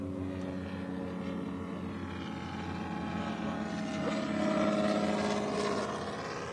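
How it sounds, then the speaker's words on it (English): A small single-engine training airplane taking off on a flight at Joint Base Pearl Harbor, a steady loud engine drone with a dense propeller hum that swells briefly near the end, heard from the cockpit with no talk. "Okay, a nice safe takeoff."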